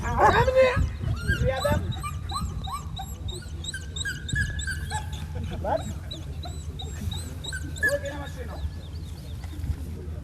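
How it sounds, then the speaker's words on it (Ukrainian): A police service dog detains a mock attacker during a military battalion's tactical training, barking, yipping and whimpering in rapid excited bursts throughout, with voices and commotion mixed underneath. "У головній ролі собака, який затримує злочинця."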